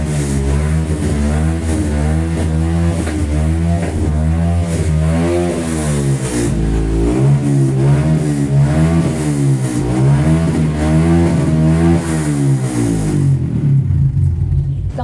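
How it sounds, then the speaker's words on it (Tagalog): Noisy motorcycle engine running close by, a loud rhythmic rumble with repeated rising and falling revs throughout, dropping away abruptly at the end. "maingay lang motor eh."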